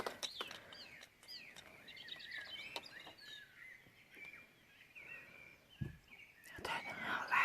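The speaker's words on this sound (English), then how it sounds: "Can you hear the birds again?" Birds chirp and sing outdoors in a quiet garden, with short scattered calls spread through the stretch; a car passes nearby and faint whispering sits under the birdsong.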